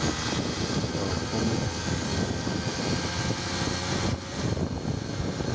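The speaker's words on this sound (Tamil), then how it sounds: "இன்ஜினோட நாய்ஸ் எப்படி இருக்குது அப்படின்னு." A TVS XL Heavy Duty moped engine runs steadily at close range, a dense rumbling drone with no voices, dipping slightly near the end.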